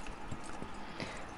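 Horse hooves clip-clop in a quick, steady rhythm at moderate distance in the video game Red Dead Redemption 2, faint and alone over a brief stretch.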